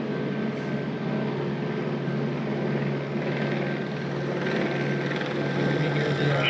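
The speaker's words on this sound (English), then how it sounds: "You can hear the helicopters." Helicopters circle over the San Fernando Valley in Los Angeles, producing a steady, loud rotor drone with a thick rumbling wash and no break throughout.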